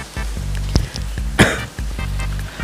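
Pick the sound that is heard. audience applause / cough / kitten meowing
cough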